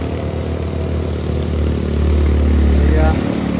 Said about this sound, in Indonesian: Isuzu Giganya ngejos kanan menyalip Hino Jember.